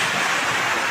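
Sea waves and strong wind roar together during Typhoon Nando along the coast, a loud, dense, unbroken rush of surf and gusting air blasting the microphone.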